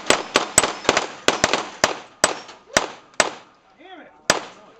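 Sharp pistol shots at falling steel plates on a speed-shooting range, about a dozen loud cracks in an uneven quick sequence, with brief faint sounds between them.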